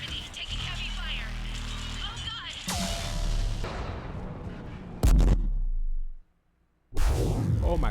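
Heavy gunfire and explosions around a spaceport in the Mass Effect video game, loud repeated blasts and booms with sharp cracks, mixed with game music and voices talking, then a sudden drop and another burst.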